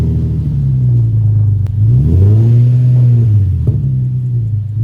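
An Infiniti G37 fitted with a cold air intake revs up loudly at close range, the engine note rising into a sustained roar and then falling back to a deep rumbling idle, with no voices.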